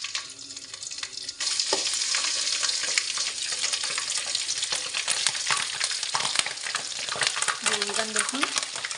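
Ginger is dropped into hot mustard oil with torn bay leaves and bursts into a loud, steady sizzle after a quieter start, with scattered crackles and spatters close up and no voices.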